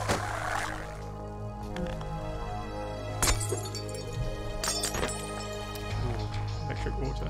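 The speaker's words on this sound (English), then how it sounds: "People don't like breaking glass much right now." Glass shattering in the video game Black Mesa, with a few sharp breaks standing out over continuous game music and ambience, loudest near the middle of the clip.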